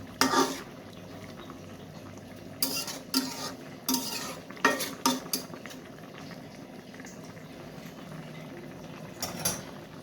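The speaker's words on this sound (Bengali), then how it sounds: "মাছ দিয়ে রান্না করছি।" A spoon stirs and scrapes a dried fish curry in a cooking pot with coriander leaves being added. Irregular bursts of clanking and scraping sit over a quiet bubbling simmer, with pauses between strokes.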